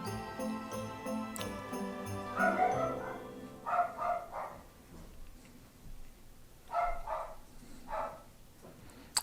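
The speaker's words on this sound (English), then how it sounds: "When dogs bark, it completely throws me off my game." Several dogs bark in short bursts, some close and some a bit farther off, in a few separate clusters across the clip.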